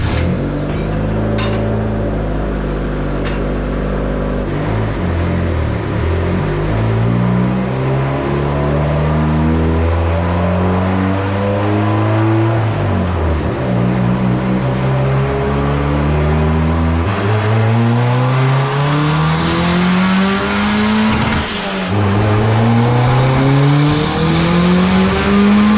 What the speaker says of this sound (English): So we just made a pull in second gear